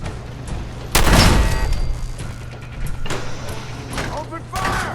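Gunfire in Fallout 4, a loud blast followed by scattered shots and mechanical clatter over a steady game hum, with a voice speaking briefly.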